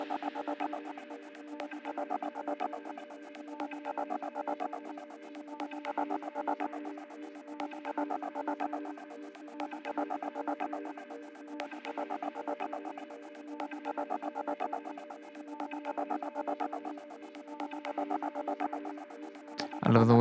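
Synth chords processed in FL Studio 20.9 for melodic techno pulse in a steady repeating pattern, held tones throbbing under a crackly static texture at moderate level, ending in a brief low thump.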